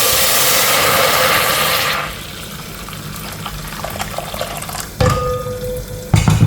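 Water is poured into a pot on a gas stove while making churma laddu, a loud steady splashing stream for about two seconds, then quieter clatter and handling noises with a few sharp knocks.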